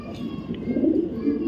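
Racing pigeons of a foreign racer bloodline coo with low, throaty, rolling calls, close and fairly loud, continuing through the moment with faint background noise.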